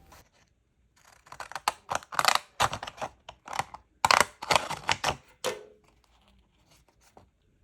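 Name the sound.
craft scissors cutting paper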